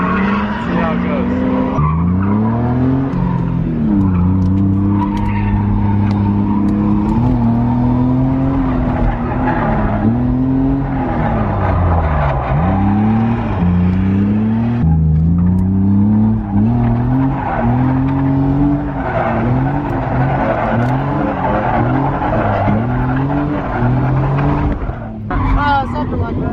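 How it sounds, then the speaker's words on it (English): BMW M3 drifting at an outlaw drift event, engine revving up and down in long wavering sweeps with tyre squeal, loud and continuous while a commentator talks over it. "now he's actually drifting his M3"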